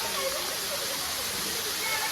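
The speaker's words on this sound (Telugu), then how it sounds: "అది వాటర్ ఫాల్స్" Steady broadband rushing of a waterfall fills the air, a continuous even roar heard from a viewpoint with no break in the wash of water.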